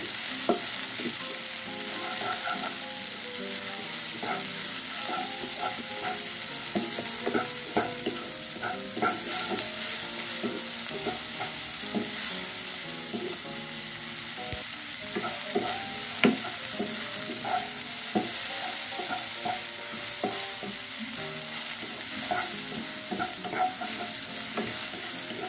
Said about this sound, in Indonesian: kita masukkan juga cabai-cabainya